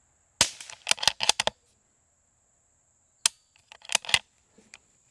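Sharp, dry rifle cracks from a CZ 457 at a shooting range: a quick cluster of about five shots, a pause, then a few more scattered reports, each loud and clipped with no voices.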